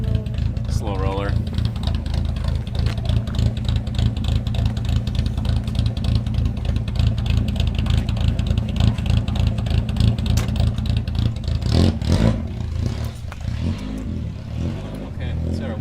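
A barn-find Volvo 164 drives for the first time in 30 years, its engine rumbling loud and low with rough, uneven revving, then fading near the end, with voices talking over it.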